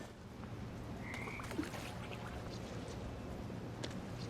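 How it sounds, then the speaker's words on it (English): Toads croak faintly in What Remains of Edith Finch, sparse low calls scattered over a quiet, droning ambient background with no speech. "And toads."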